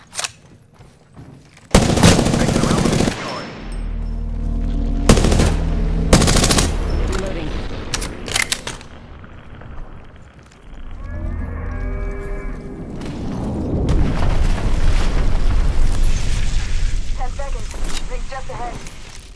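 Automatic weapon fire in the battle royale game Apex Legends: loud sustained bursts and fusillades of shots, interrupted by brief pauses and reload sounds, under game voice callouts and talk.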